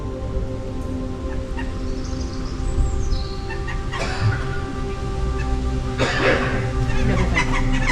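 A man coughs twice, sharp bursts a couple of seconds apart, amid outdoor ambience at Dunfermline Abbey in Scotland, with birds chirping and chattering nearby.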